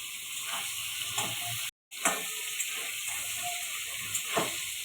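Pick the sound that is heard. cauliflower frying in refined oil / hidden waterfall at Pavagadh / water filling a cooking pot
cauliflower frying in refined oil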